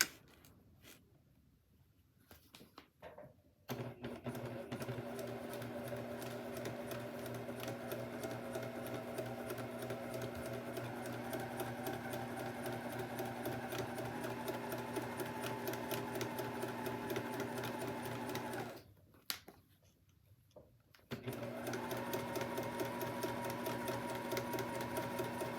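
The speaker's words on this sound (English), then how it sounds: "I'm going to sew with a scant 1/4 inch seam." A sewing machine runs steadily while stitching a quilt flange seam at a scant quarter inch, a close, continuous motor hum broken by two brief pauses before it starts again.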